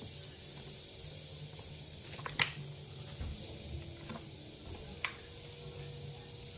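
Ingredients for chops with Brussels sprouts melting down in a pan, a faint steady sizzle with a few sharp clinks from a utensil and no talk.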